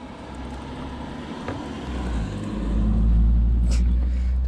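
A car passes close by in a parked-car setting, its low engine rumble and tire noise swelling over a few seconds and peaking near the end, with faint wind in the background.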